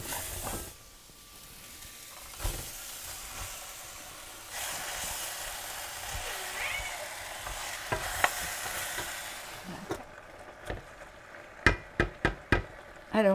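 Spoon stirring flour into a simmering stew sauce in a pan, scraping and swishing steadily over a low sizzle, ending in a run of sharp knocks against the pan.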